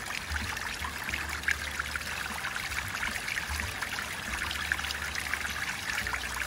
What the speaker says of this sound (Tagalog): Hugasan mo na yung kamay mo